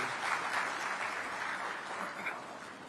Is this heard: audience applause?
yes